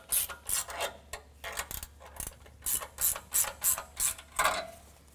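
A ratchet wrench clicks in quick repeated bursts while tightening bolts on an Air Lift LoadLifter 5000 air bag kit being installed on a 2020 Ram 2500, a close, rhythmic rasping with short pauses between strokes.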